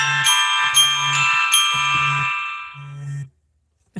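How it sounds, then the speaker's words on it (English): A bedtime alarm chimes in a repeating pattern of bright bell-like dings over a low pulsing buzz, four rounds of close ringing that then cut off abruptly into silence. "That's my alarm that's telling me it's 9:30 and it's bedtime."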